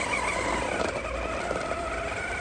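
A small RC crawler drives over dusty ground under throttle, giving a steady whining motor hum with a gritty texture throughout, no voices.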